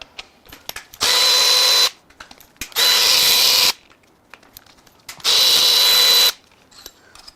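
Bolts removed from the oil pump of a BMW S85 V10 engine during teardown: three loud, close bursts of a power tool whirring for about a second each, separated by small clicks and handling noises.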